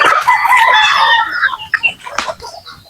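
Native chickens crow and cluck loudly at feeding time, with one close crow stretching through the opening seconds and sharp clucks following.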